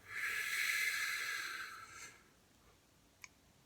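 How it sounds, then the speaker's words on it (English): A person draws a long, audible breath in through the nose during a box breathing exercise, a close airy inhale lasting about two seconds, then quiet with a faint click. "So breathe in."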